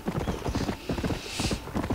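Rapid, rhythmic hoofbeats of a galloping horse in the video game Red Dead Redemption, close and continuous, with a brief whoosh partway through as the horse jumps off a small hill.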